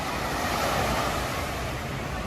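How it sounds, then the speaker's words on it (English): Waves and road traffic at Waikiki beach in Honolulu on a weekday afternoon blend into a steady, loud, broadband wash of surf and passing cars, with no break across the stretch. "So this is Waikiki beach at 1:30 p.m. on a Tuesday"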